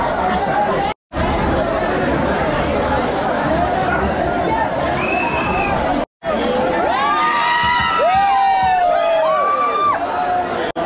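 Dense crowd of a festival procession for the Ekvira Aai palkhi, loud chatter, shouting and cheering all around, with children's voices and whistling-like calls rising near the end; nearby people talk throughout.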